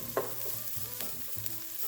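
Parboiled carrots join zucchini already frying in a pan, with a crisp sizzle, a sharp clatter as they drop in and soft stirring scrapes, close and with no speech.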